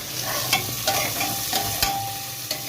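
A spoon stirs masala and tomatoes in a hot pan, steady frying sizzle underneath with several scraping strokes at an irregular rhythm, close and moderately quiet, no voices.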